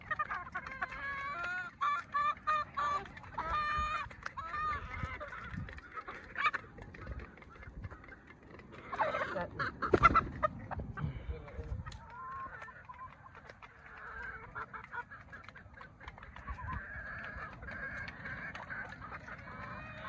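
Chickens cluck and call repeatedly on a poultry farm, with several birds squawking at moderate distance, overlapping calls and a louder burst of clucking midway, over a low background hum.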